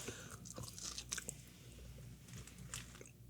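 Close, quiet chewing on tough, chewy oxtail, with soft wet crunches and biting sounds in an irregular rhythm over a faint low background hum.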